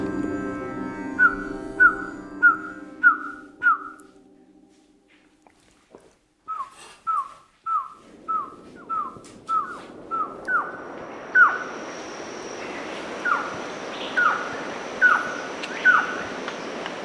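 A person whistles an imitation of a trogon's call, a run of short evenly spaced descending notes repeated in two series, clear and close against a faint background hiss.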